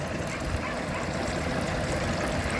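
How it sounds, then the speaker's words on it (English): A fried turkey lifted out of the oil and left to drip, giving a continuous close trickling, bubbling wash that stays steady throughout without a break. "Try to let that drip real quick."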